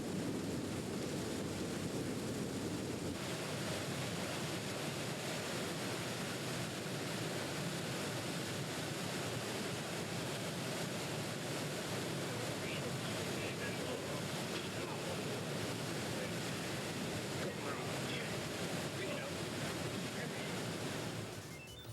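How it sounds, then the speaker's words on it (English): Grade 10 white water on the Colorado River roars continuously between tall cliffs, a dense, steady rush with wind-like noise that holds for the whole stretch and fades slightly at the very end. "the sheer adrenaline rush of hitting grade 10"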